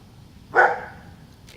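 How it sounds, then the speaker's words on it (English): A dog gives a single sharp bark at moderate distance while someone whittles wood, followed by a faint trailing rumble and no speech. "He's either barking at me or somebody else"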